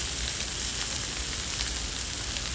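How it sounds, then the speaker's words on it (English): A T-bone steak sears bare on a very hot skillet, giving a steady, close, loud sizzle and crackle that holds constant throughout without any talking. "We're gonna put it bare on this really hot skillet and not move it."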